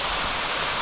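A small waterfall at Clifty Falls, Indiana, makes a steady, close, broadband rush of falling water with no breaks.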